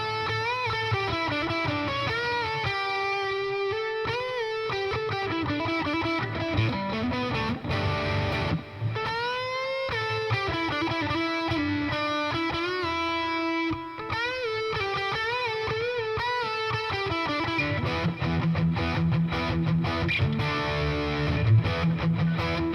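Gibson Les Paul Studio played through a Boss Katana MK2 100-watt 1x12 combo with the distortion turned all the way up, a thick, sustained, saturated guitar line running continuously and loud with no talking.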